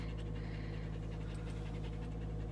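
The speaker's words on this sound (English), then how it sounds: "My dog is panting over my head" A dog pants rapidly and steadily close to the microphone after an outdoor hike, with quick rhythmic breaths over a constant low background rumble.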